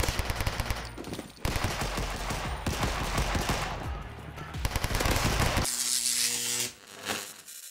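Rapid automatic gunfire from the mobile first-person shooter Wipe Squad, loud sustained bursts of machine-gun fire with brief pauses, then a sharper burst and ringing tail near the end.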